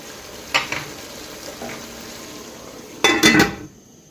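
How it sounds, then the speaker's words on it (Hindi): Potato and moong fritters frying in a pan on a low flame give a soft, steady sizzle, close by, broken by a few short clatters of a utensil against the pan. "अब इसका फ्लेम थोड़ा सा स्लो करेंगे, ऐसे ही इसको पकने देंगे।"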